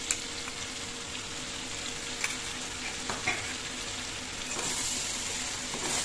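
A ginger, garlic, green chili and cumin paste frying in a pan for a chicken curry with bottle gourd, giving a soft, steady sizzle with a few light spoon scrapes and taps.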